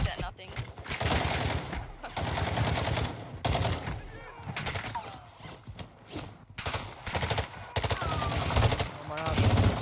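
Video game gunfire in Call of Duty DMZ, dense bursts of rapid shots with sniper fire mixed in, loud and repeated in clusters, with voices talking over parts of it.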